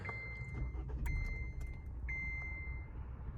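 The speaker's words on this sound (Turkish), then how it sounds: "Şöyle çalıştıralım arabayı sıcak oldu çünkü içerisi." A car engine runs quietly after starting, with a steady electronic chime beeping repeatedly and faint clicks and rattles nearby.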